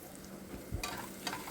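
Fish and onions frying in a pan, a faint, quiet sizzle with a couple of soft stirring scrapes.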